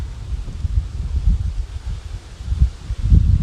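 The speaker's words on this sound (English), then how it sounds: "Got a little bit of a breeze here in the Great Forest of Kansas" A breeze blowing outdoors in a Kansas forest, low gusty rumble buffeting the microphone and swelling and easing over a few seconds, with faint rustling and no talk.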